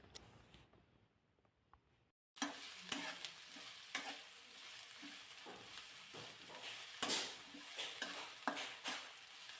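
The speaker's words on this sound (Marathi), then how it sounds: "त्यामध्ये सिमला मिरची घालायची कारण आपण सिमला मिरची जेव्हा परतो तेव्हा त्याबरोबर कांदासुद्धा परतला जाईल" After a short near-silence, onion and capsicum start sautéing in a pan for bread cutlets, a constant soft sizzle punctuated by irregular scrapes and taps of a spatula, close and unaccompanied by speech.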